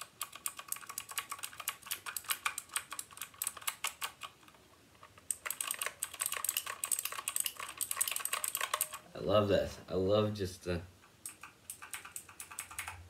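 Rapid clicky typing on a new computer keyboard, dense bursts of keystrokes with a short pause, then a voice speaking briefly before the typing resumes near the end.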